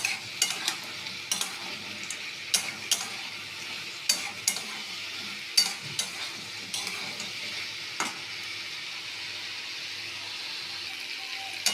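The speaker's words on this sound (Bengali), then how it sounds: "দিয়ে এটাও একটু মশলার সঙ্গে ভালো করে আমি কষিয়ে" Fried cauliflower being stir-fried with spices in a pan: a constant sizzle punctuated by regular, close scrapes and knocks of a spatula against the metal, without any talking.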